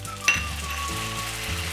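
Sesame seeds dropped into hot oil for a Gujarati patra tempering, with coriander seeds and asafoetida already in the pan, giving a brief clink then a steady close sizzle with crackling pops.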